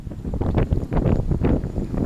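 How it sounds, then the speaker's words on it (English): Gusty wind buffets the microphone outdoors in loud, uneven low rumbling bursts that rise and fall through the whole stretch, with no speech over it. "I'm trying my best to not move because the wind is blowing me"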